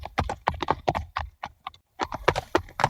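Several horses clip-clop as a band of thieves arrives, with rapid, uneven hoofbeats at close range, a short pause, and then a renewed flurry of steps.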